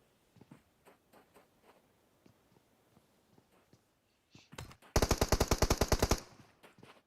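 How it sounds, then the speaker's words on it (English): PUBG gunfire from a player shooting at a wall: scattered faint shots and clicks, then a loud rapid automatic burst of about a dozen evenly spaced cracks, followed by quieter reports. "that is Jammy now shooting from the wall"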